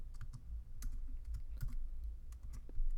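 Someone types code on a computer keyboard, producing a quick, uneven patter of key clicks with a few louder strokes, heard close with no talking.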